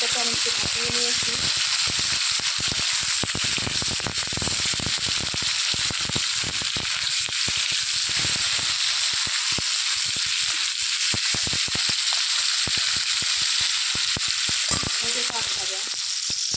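Steamed cauliflower florets fry to golden brown in hot oil in a pan, giving a steady, dense sizzle with crackling pops that runs throughout at close range.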